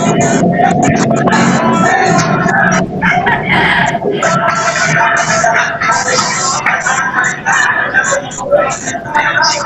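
Backyard chickens and chicks in a rural yard, a rooster crowing loudly near the start with continuous clucking and cheeping throughout, mixed with a person talking nearby.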